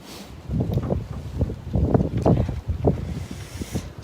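Strong gusty wind buffets the microphone at a bus stop, rumbling loudly in uneven surges for the whole stretch with no voices.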